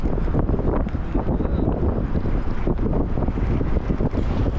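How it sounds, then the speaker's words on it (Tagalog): Strong wind buffets the microphone beside a canal with a continuous loud rumbling roar, gusting unevenly throughout. "Grabe lakas ng hangin."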